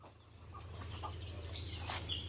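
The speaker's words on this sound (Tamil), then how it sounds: "சேவல்லாம் இங்கே தான் நிற்கிது." Roosters and hens cluck and call inside a coop, a steady mix of close clucking with a few brighter calls over a constant low hum.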